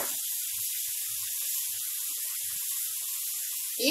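Soy sauce poured into a hot pan of stir-fried vegetables and capsicum for egg noodles, giving a steady, close, bright sizzling hiss that holds for several seconds with small crackles, no talk over it.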